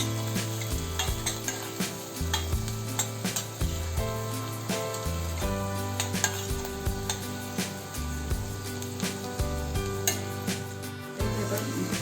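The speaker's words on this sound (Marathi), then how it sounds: "आता हे पुन्हा चांगलं परतवून घ्यायचं।" Upma spices (asafoetida, turmeric, chili powder) sizzling in a pan while a spoon stirs and scrapes repeatedly in a steady rhythm, close and moderately loud, with no talking.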